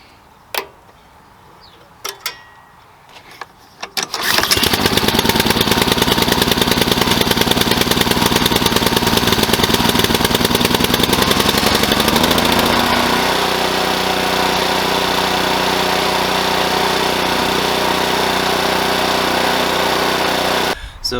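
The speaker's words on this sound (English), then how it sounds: "I do want to run it for a few minutes to warm up the oil" A Cub Cadet RT65 tiller with a Honda GC190 engine gives a few clicks before starting, then roars loudly and steadily up close, settling into a lower, even idle partway through.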